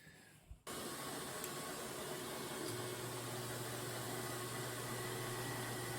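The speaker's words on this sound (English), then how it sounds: "Just a little shop vac, holding it up with my left hand while I'm moving the stylus with my right." A small shop vacuum collecting dust during pantograph inlay routing switches on abruptly and keeps up a loud, steady whine and roar, a constant hiss with a low hum beneath it.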